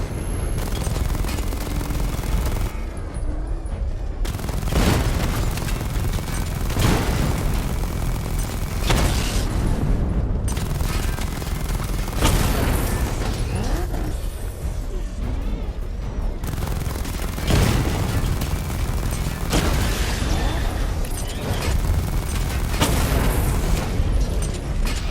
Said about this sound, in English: Charge the missile barrage to level 2 to destroy up to 4 targets